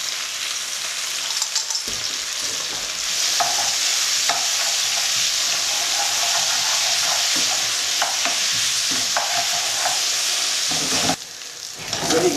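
Spam and garlic browning in a frying pan, a loud steady sizzle with stirring scrapes, continuous for the whole stretch and dipping briefly near the end, no voices.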